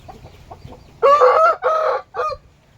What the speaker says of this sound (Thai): อันนี้ไก่นุ่ม